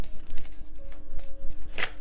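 Tarot cards are shuffled by hand in a series of quick, crisp riffles and soft slaps. The sound comes close and fairly loud, with a faint steady tone humming underneath.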